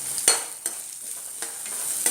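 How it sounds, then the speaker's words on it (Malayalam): Ingredients for a mutton paste curry stir and sizzle in hot oil in a pan, a quiet continuous frying hiss broken by several sharp scraping strokes of the spoon. "ഇതിലേക്ക് ഞാൻ എണ്ണ ഒഴിച്ചിട്ടാണ് വഴറ്റിയെടുക്കുന്നത്"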